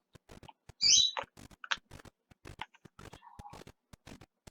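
Brief harsh crow calls ring out once near the start of The Long Dark video game, then scattered chirps and clicks over a steady patter of small game sounds.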